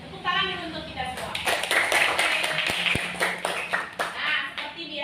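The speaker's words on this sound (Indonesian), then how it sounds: "Tepuk tangan untuk kita semua." Applause from a group of students at a school assembly, dense clapping running across the whole stretch over steady crowd noise, with voices talking through it.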